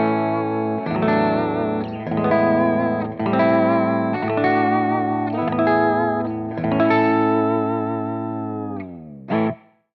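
An Ibanez Thermion electric guitar played through a bright, twangy amp channel with effects rings out in strummed chords, sustained and reverberant, close and alone, ending in a short final hit.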